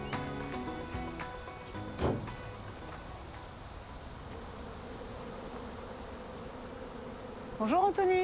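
Honeybees from wild-caught swarms buzz in a steady, continuous drone throughout, with a short louder burst early on and another brief sound near the end.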